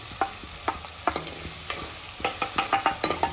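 Garlic and peas fry in a pan under a soft sizzle, with quick, repeated scraping taps of a spoon stirring them throughout.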